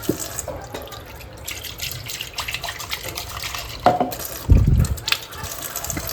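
A household water tap with low supply running weakly into a sink: a steady thin trickle with a few louder splashes near the end, close and moderately loud.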